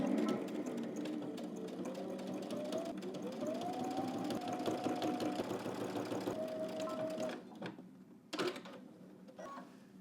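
A sewing machine runs steadily for several seconds along a 5/8-inch seam on a jacket, whirring with a rhythmic needle clatter, then slows and stops, followed by a few clicks and handling sounds.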